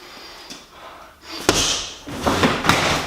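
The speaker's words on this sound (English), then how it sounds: "I was able to knock down the bob" A heavy BOB freestanding punching dummy is struck and knocked over indoors, giving a series of loud thuds and impacts, the heaviest strike followed by a rattling clatter as it rocks and settles.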